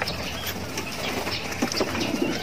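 Soft pigeon coos close by against a busy background of rustling and faint chirps, with no talking.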